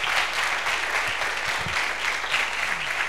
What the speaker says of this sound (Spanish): que le dé un aplauso